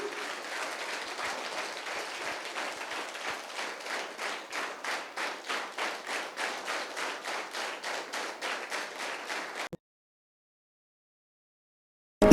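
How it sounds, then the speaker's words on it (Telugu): Government intermediate college students clap together in steady rhythmic unison, a long run of evenly timed claps that stops abruptly, followed by silence. "అండ్ క్లాప్ ఫర్ మనకెంత అద్భుతమైన జీవితం ఇచ్చినందుకు."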